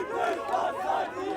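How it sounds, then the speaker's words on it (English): A dense protest crowd of thousands, some carrying Antifa banners, chants against the AfD in rising and falling waves of voices, loud and close throughout. "Crowds carrying Antifa banners chanted against the AfD"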